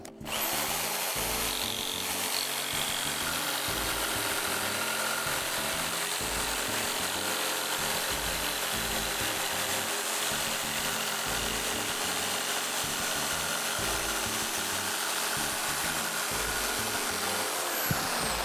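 Jigsaw cutting a wood board, a continuous loud, close buzzing drone with a fast reciprocating rattle, running steadily for the full stretch with no talking.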